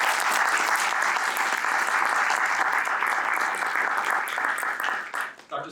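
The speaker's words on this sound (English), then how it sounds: "please give our speakers a big round of applause" Audience applause for two guest speakers at an evening talk on US-China competition in East Asia, a dense, steady wash of clapping from a sizeable crowd that holds for several seconds before thinning out at the end.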